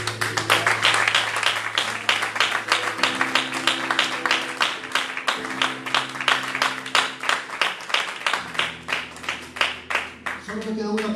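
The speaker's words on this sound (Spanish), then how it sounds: "Dale un fuerte aplauso, Señor." A church congregation claps in a steady rhythmic beat, around two claps a second, over sustained music tones throughout.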